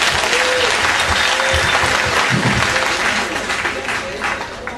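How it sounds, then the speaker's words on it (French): A crowd at a campaign rally in Sainte-Anne applauds steadily, a dense continuous clapping that stays loud and close throughout with a slight easing toward the end. "Applaudissements encore, une fois."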